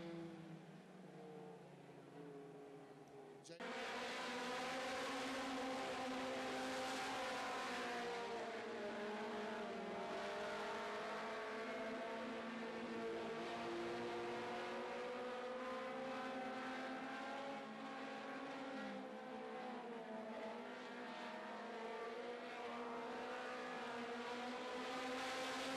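Late-model stock cars race around a Carolina short-track speedway, their engines rising into a loud, sustained, droning roar after a quieter opening, with pitch wavering as the pack circles.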